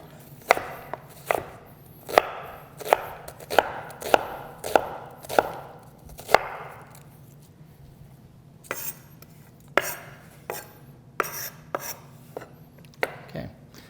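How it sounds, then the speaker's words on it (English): A knife chops through bell peppers on a cutting board in a quick series of sharp, close taps. After a pause, a sparser run of cuts follows, with no talking. "you can actually take the blade of your knife and come in from the side and make 1/4-inch slits going up"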